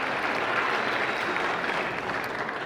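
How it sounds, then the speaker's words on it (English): A warm burst of steady applause from an audience at an Army football awards ceremony, dense and continuous for a couple of seconds with no talk. "that's worth a clap"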